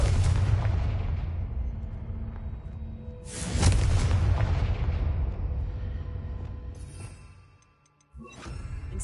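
A Confringo explosion spell in a Hogwarts video game, with a heavy booming blast, its long rumbling decay, then a second sharp blast and a fresh burst near the end.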